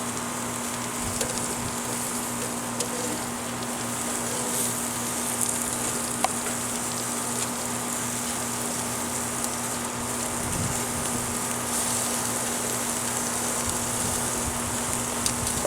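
Chicken pieces sizzling on a grill for taco filling, a steady close crackle with no pauses and no talk.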